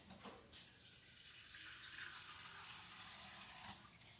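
About half a cup of water is poured into a chorizo skillet, making a soft, faint splash and sizzling hiss that fades slowly, with no voices.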